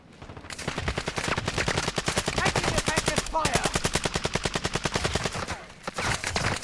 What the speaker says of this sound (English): I can't see who's shooting at you.